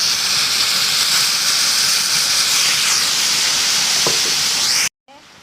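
Taro stolons (loti) being stirred in a hot pan give off a loud, steady sizzling hiss that runs continuously for several seconds and then cuts off abruptly.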